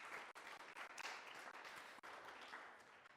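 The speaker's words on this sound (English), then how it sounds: "A round of applause for all of our panelists" An audience claps continuously throughout, a dense, steady applause with no voices standing out.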